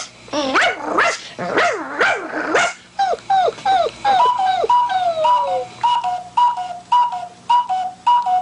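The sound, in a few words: female dog sound effect voiced by actor Frank Welker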